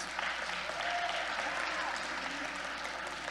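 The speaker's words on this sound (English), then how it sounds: "one more round of applause." Audience at a youth conference poetry slam gives a round of steady applause for the judges and poets, sustained clapping with faint crowd murmur mixed in.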